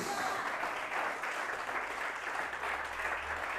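A church congregation claps for Jesus during a sermon, a steady wash of applause at a moderate distance.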